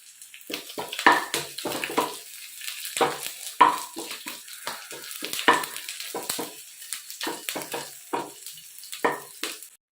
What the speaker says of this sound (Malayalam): പിന്നെ കടുക് വറക്കുന്നുണ്ട് കറിയിലേക്ക് ചേർക്കാൻ വേണ്ടി ലാസ്റ്റ്.